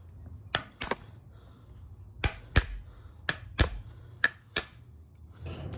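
A chisel strikes wooden gate boards in sparse, sharp knocks, about eight distinct hits spaced irregularly against a quiet background, close and fairly loud, no talking.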